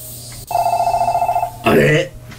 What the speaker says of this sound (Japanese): あれ、電話だ。